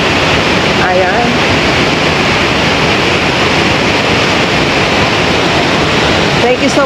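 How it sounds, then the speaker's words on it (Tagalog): Tulay waterfall in Luciana, Laguna roars as a steady, loud broadband rush of falling water, continuous throughout with no break, close to the falls. "This is the Tulay Waterfalls here in Luciana, Laguna."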